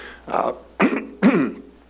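Three short, harsh coughs or throat-clearing bursts close to the microphone, each separated by a brief pause.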